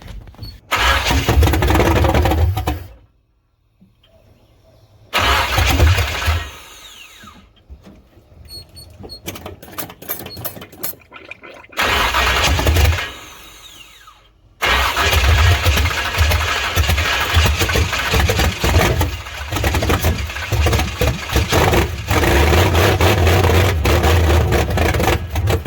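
Freshly built 355 V8 in a 1964 Chevy C10 cranking and catching on its first start: loud rough bursts of revving separated by quiet pauses, then a sustained, uneven, throaty idle close by.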